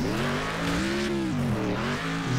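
Damaged car driving in the video game Next Car Game, a continuous loud engine note rising and dipping in pitch as it revs, close and steady, with no talk.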